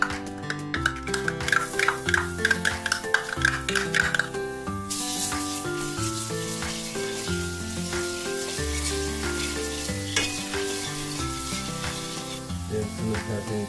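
Garlic sizzles and fries in hot cooking oil in a pan, a steady loud crackling hiss that runs throughout, with a stirring utensil scraping and tapping now and then, over soft background music.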